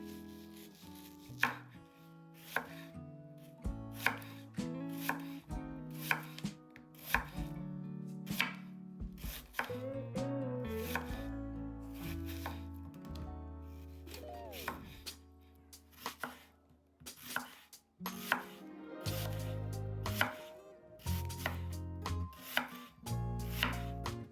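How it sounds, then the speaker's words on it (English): A knife chops an onion for a broccoli casserole, with a fast run of crisp, close chops in steady bursts over tonal background music. "Chop one onion."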